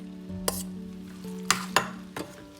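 Eggs cook in a shallow dish with no oil added, with a soft sizzle under several sharp clinks and scrapes of a utensil against the dish. The scrapes come in a few distinct knocks, close by and with no talk.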